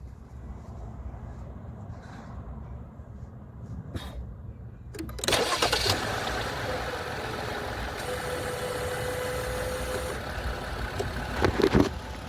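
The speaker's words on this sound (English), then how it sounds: "I'm gonna do a quick video startup here of the engine." A 2020 Chrysler Pacifica engine cranks and fires after a quiet pause, then settles into a smooth, steady idle heard up close.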